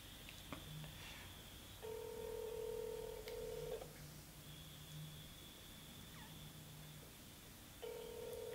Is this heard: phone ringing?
yes